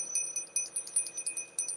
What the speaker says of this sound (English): I'm going to ring the bell, let the universe know we're here